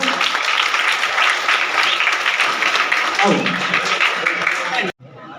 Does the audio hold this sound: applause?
yes